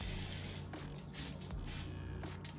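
Vegetable oil is spritzed from a spray bottle while cooking chicken gizzards: a soft, close hiss in several quick pumps over low room noise, with no speech.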